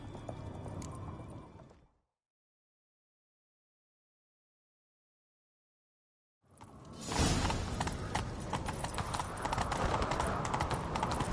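Horses clip-clop at a gallop in a chase in The Witcher 3, loud and close, with rushing hoofbeats filling the back half after a stretch of silence; a brief burst of sound precedes the gap.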